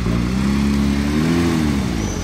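Porsche 911 Speedster in heritage livery with a manual gearbox at Top Marques Monaco 2024, its engine droning close by and swelling briefly in pitch as the car rolls past, with no voices.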